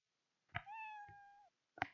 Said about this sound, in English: So this has a meow sound, dudes.